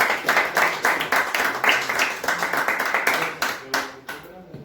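A crowd at a Spanish-language Bible gathering claps in rhythm, a brisk run of overlapping handclaps that stays close and loud before thinning out, with voices mixed in.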